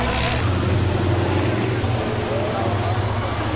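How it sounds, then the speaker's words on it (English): School buses race side by side on a figure-8 track, their engines a steady loud rumbling drone throughout, with a commentator's voice heard over the noise. "Good battle behind me between these two buses, banging and crashing."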